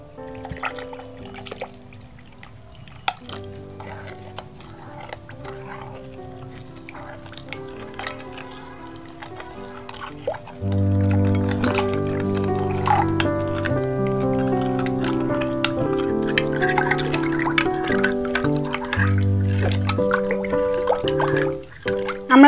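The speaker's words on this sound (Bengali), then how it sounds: "এবার আমরা জল দিয়ে দেব।" Water is poured into a burnt raw mango sherbet with sugar, giving soft trickling and dripping close by, heard under steady background music that grows fuller partway through.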